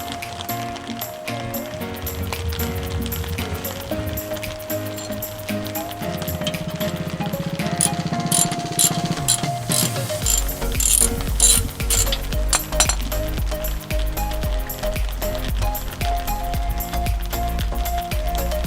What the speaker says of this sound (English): Take the bottom bolt out.